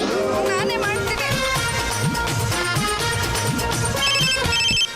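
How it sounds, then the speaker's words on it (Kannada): A phone ringtone plays steadily and loudly for the whole stretch in a home scene from a Kannada TV serial, a bright repeating electronic melody with voices over it. "ಮತ್ತೆ ರಿಂಗ್ ಆಗ್ತಾ ಇದೆ ಕಣ."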